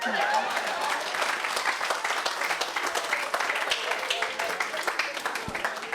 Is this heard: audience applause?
yes